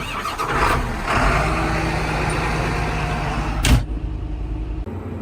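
A tractor engine cranks and catches in a farming video game, idling steadily with a loud burst near the end, no talking.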